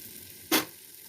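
Ground peas dropped into a hot pan, a single brief burst of sizzling hiss about half a second long, fairly close, over a quiet background.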